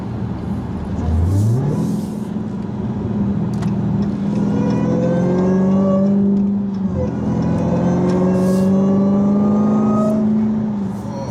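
A Dodge Hellcat engine revs loudly from inside the car, climbing through rising pitch sweeps and gear changes with a deep, continuous roar close by.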